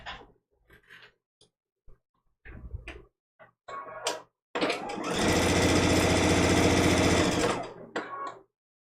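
A sewing machine stitches the seams of a quilt block, a steady fast motor run lasting a few seconds after scattered handling clicks and soft bumps, close and loud.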